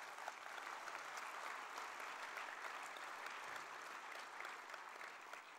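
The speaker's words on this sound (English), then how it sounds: "We can give him a big round of applause." Sustained applause from a conference audience thanking the event's MC, steady and dense clapping at even loudness throughout with no voices heard.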